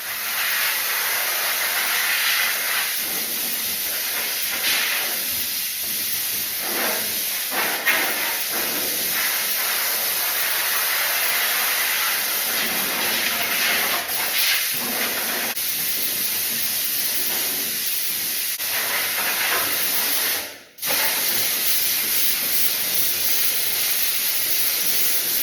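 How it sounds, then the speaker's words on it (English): Wax and grease remover sprays onto a car panel in a steady, close hiss that runs almost unbroken, with a short gap near the end. "When I'm waxing and greasing, I like to spray the panel and soak it up."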